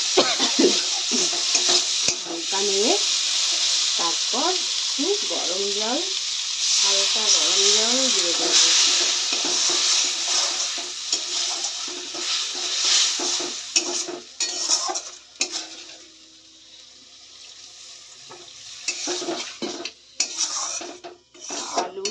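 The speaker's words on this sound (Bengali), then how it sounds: "এবার চিংড়ি মাছ ভাজাটাও দিয়ে দিলাম ওর মধ্যে, দিয়ে একটু নেড়ে" Fried prawns are added to a sizzling, oily spiced masala in a frying pan and stirred. Brief scraping strokes sound over a continuous hiss, with a voice coming through faintly in places.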